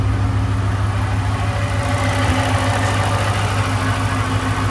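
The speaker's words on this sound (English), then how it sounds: "I'm going to let it idle" A car engine, recently blown up, idles steadily up close with a deep, even rumble and a faint uneven knock running through it, continuous and loud with no voices.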